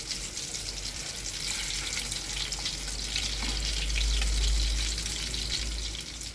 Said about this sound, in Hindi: जो कटलेट्स होते जा रहे हैं फ्राई, हम उनको निकालते जाएंगे।